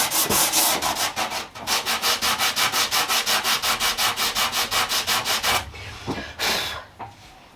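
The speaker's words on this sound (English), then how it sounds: "get your piece of sandpaper, wrap it around the shape that you need" Curved wood on a mid-century modern cocktail cabinet sanded by hand with sandpaper wrapped to its shape: fast, even, rhythmic back-and-forth strokes, then a pause and a few slower, separate rubs.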